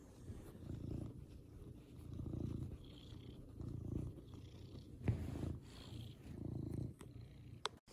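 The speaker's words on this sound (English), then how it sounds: "Oh, his purr." A resting house cat purrs close up, a steady low rumbling that swells and eases in slow, even breaths, with no voices over it.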